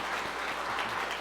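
A church congregation applauds during a Sunday worship service, a dense, steady clapping that fills the room without pause.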